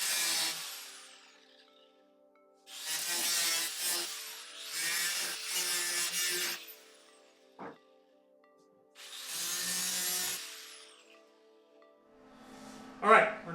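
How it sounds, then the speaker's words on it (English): An angle grinder cuts back welds on a Triumph Spitfire body tub in several loud bursts of a few seconds each, separated by pauses and short clanks, with a brief screech near the end. "I'm going to grind off what I've done so far"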